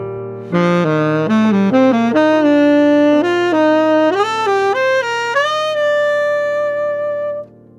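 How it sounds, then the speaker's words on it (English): A bright, clean melodic instrument plays a rising Lydian scale, one clear note after another at a steady pace, ending on a held top note. "Here the chord scale will be the Lydian scale,"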